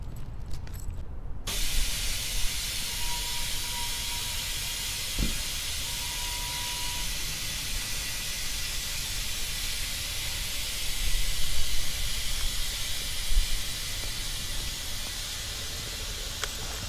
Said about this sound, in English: the air is coming out of those rear airbags